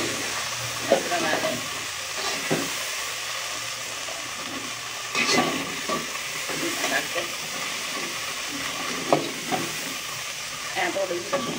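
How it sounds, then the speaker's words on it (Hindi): Crushed ginger and garlic are stirred in a pan with a soft, steady sizzle, broken by scraping strokes and occasional sharp clinks of the utensil. "इस तरह अदरक लसन कुट के इन्हू हम हिला लेना।"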